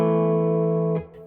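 Electric guitar on the neck pickup with the coil split rings out a single sustained chord with a bright, clean tone that holds steadily before being cut off, followed by a faint string noise.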